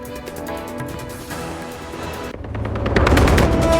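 Gunshots fired at comedian Kapil Sharma's cafe in Canada ring out in rapid bursts, loud and fairly close, becoming denser and louder toward the end.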